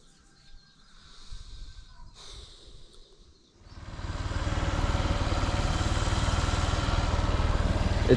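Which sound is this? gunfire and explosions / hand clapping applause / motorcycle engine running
motorcycle engine running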